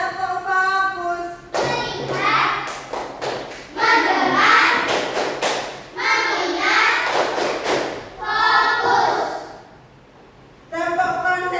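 A class of Indonesian pupils in a religious education lesson performs a patterned focus clap, clusters of sharp unison claps alternating with loud children's chanting, then a brief quiet gap.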